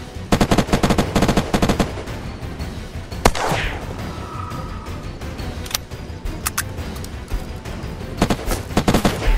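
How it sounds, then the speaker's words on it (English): Gunfire in the survival game Unturned: rapid automatic bursts crackle in clusters at the start and end, with scattered single shots and a sweeping whoosh in between, loud and close with no talking. "Trying to shoot at me, he's missing."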